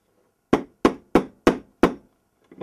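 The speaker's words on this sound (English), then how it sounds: "I give it a little tap with a hammer." A hammer taps on an antenna connection wire, five sharp evenly spaced knocks followed by a softer sixth, close and distinct with silence between.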